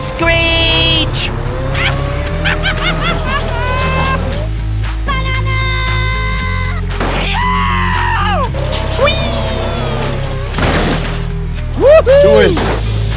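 Monster truck tires screeching in BeamNG.Drive during a Monster Jam race, a loud sustained squeal with rising and falling pitch sweeps over engine roar, mixed with music and a speaking voice.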